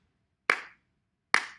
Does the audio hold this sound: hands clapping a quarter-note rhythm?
yes